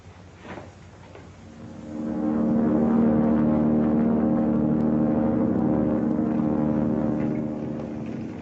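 Car engine in a 1939 film, a low droning hum that swells in after a couple of seconds, holds steady and fairly loud for several seconds, then eases off slightly.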